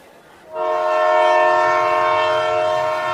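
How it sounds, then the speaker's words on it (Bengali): A train horn blasts after a short quiet rumble, a loud sustained tonal blare that holds steady, with low rail rumble beneath. "অবশেষে ট্রেন ছাড়ল"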